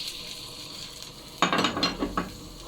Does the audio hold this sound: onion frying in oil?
yes